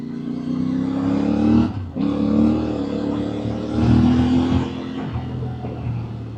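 A CFMOTO 450MT IBEX, a two-cylinder 450cc adventure motorcycle, runs under way with a loud, steady engine drone, a brief dip near two seconds and a rising rev swell around the four-second mark; no one talks.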